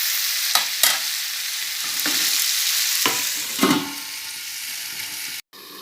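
Chicken curry with pumpkin stirred in a pan, a loud steady sizzle broken by several distinct scraping strokes of a spoon, then a sudden brief cut near the end; nobody speaks.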